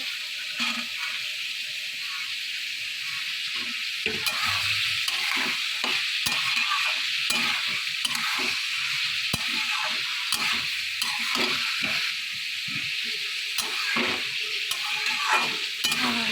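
Fried rice with green peas and chicken pieces being stir-fried in a pan, with a steady hiss of sizzling oil and repeated scraping strokes of a spatula throughout, close and continuous, no talking.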